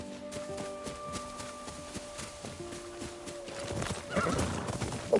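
A horse in the Ghost of Yotei video game whinnies, with clip-clop hoofbeats and game ambience, the neigh rising near the end.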